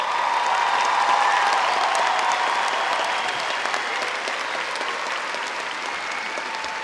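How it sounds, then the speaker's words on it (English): At a 2019 high school graduation ceremony, a large audience applauds the graduating class. The steady, dense clapping carries a faint crowd murmur and a few cheers, easing slightly in loudness over seven seconds. "Please give them a round of applause."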